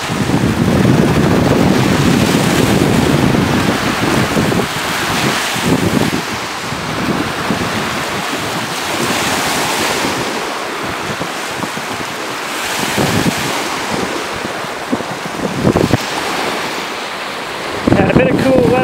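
Strong wind buffets the microphone on the Lake Huron shore at Huron-Kinloss as a thunderstorm approaches, with waves washing in beneath a loud, steady roar that eases slightly partway through and gusts again at the end.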